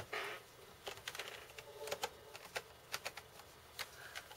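Computer keyboard keys clicking in quick irregular bursts, fairly close and moderately loud, with no talking over the taps.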